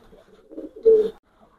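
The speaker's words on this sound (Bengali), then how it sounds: "আমি এক পেয়ার টেডি 128 রানিং পেয়ার কবুতর দেখাচ্ছি" A Teddy 128 running pair of pigeons gives one soft, close, low coo, swelling briefly and then stopping in a quiet setting.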